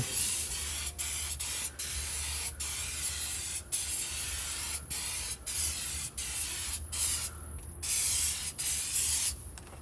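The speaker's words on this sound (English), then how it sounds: "This is just some WD-40." WD-40 lubricant sprays in repeated bursts onto engine deposits during a Chevrolet Cruze head gasket replacement, each hissing spray close and loud, separated by short breaks.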